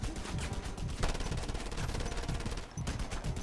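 Sustained automatic gunfire in Just Cause 2, dense rapid bursts rattling continuously and loudly for several seconds with no talking.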